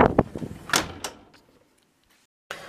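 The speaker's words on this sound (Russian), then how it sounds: "Я пытаюсь хоть как-то открыть двери" A door being opened indoors at home on a hot, windy day, with a couple of quick bumps and scrapes up front, a brief rattle, then near silence and a short burst of rustling at the end.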